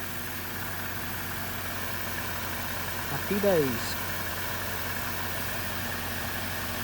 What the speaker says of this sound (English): Sounds lovely, that engine